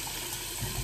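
Tap water runs steadily into a badger-hair shaving brush and lather while preparing a shave with a Wilkinson Classic razor, a close, continuous hiss lasting under a second.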